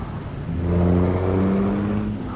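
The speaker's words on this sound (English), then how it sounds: "I've got an engine mod that adds all that sound." A modded truck engine in American Truck Simulator hums and rises in pitch as it accelerates, then settles into a steady drone, heard alone and fairly close.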